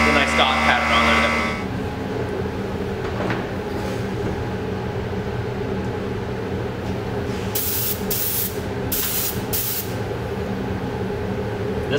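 Aquatint sprayed onto an intaglio printing plate, with too much coming out: several short, sharp hissing bursts in quick succession over a steady low background rumble.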